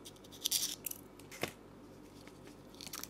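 Scissors cutting lengthwise through a Nepenthes gracilis "Black" pitcher: a few crisp snips and clicks close to the mic, with quiet handling noise between cuts and no talk.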